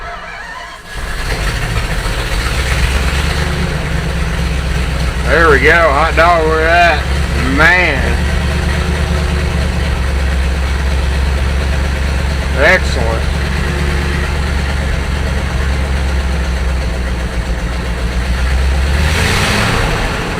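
An engine runs at a steady, low idle throughout after being revived, with a person speaking briefly over the rumble.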